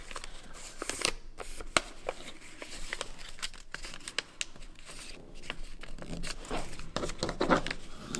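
Paper folded and creased into an origami crane gives close crinkling, rustling and sharp crisp snaps in irregular bursts, with no one speaking.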